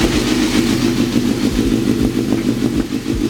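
A Suzuki GSXR1000 sport bike fitted with a slip-on muffler idles around 1,000 RPM, a steady close-up burble with a fast, even pulse and light mechanical clatter, no voices.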